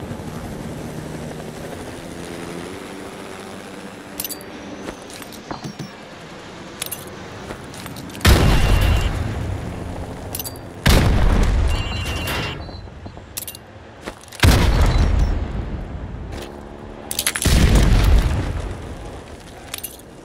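Frag grenade explosions in the Call of Duty: Modern Warfare Remastered training course, four heavy booming blasts a few seconds apart over a steady background rumble.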